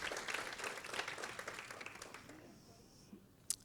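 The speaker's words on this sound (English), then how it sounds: "Let's give her a round of applause." An audience at a conference keynote applauds, a brisk patter of many hands clapping that gradually thins and fades out over a few seconds, followed by a couple of faint isolated claps.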